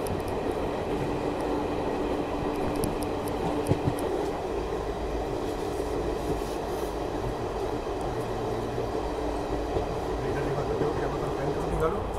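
A Garib Rath express train on the Mumbai–Delhi route runs slowly through fog, giving a steady, continuous rail rumble and wheel noise throughout, with muffled voices in the background.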